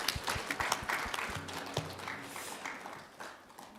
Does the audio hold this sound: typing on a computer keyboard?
no